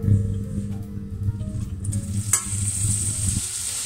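Sliced leeks dropped into hot olive oil in a cooking pot, a steady soft sizzle with crackling hiss, close by and continuous.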